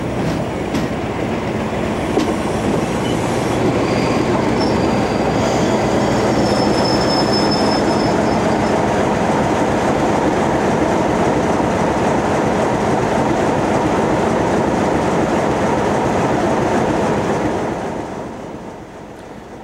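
Locomotive-hauled passenger train with a single set of hired coaches on a GWR branch line, a loud continuous close rumble of rolling wheels with rhythmic clatter and faint squeal, fading slightly at the end.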